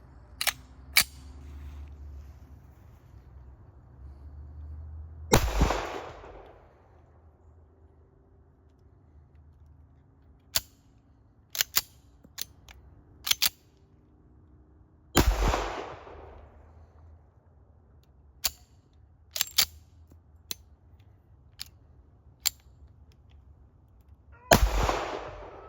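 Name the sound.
WWII 1943 Colt 1911A1 pistol firing rounds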